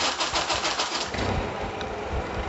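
A Mazda 1300 engine with a carburetor runs steadily, a continuous mid-pitched mechanical hum with slight pulsing, fairly close and without voices.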